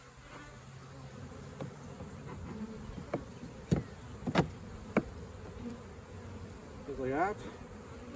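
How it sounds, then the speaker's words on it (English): Honey bees from a freshly caught swarm buzz close by in a horizontal hive, a steady drone with sharp passes of single bees flying near, while a person speaks briefly. "you can kind of push the bees down here a little bit, and then you can put them in"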